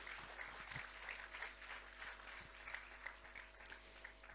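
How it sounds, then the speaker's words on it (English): Audience applauding at an inaugural function, a steady patter of many hands heard at a distance, faint and even throughout with a few sharper claps near the front. "A huge round of applause, please."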